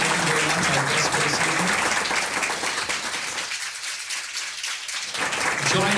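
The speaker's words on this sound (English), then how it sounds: "give them a round of applause now." Audience applause at the close of a live stage show, dense and sustained clapping filling the room, loud throughout with a brief dip near the end before swelling again.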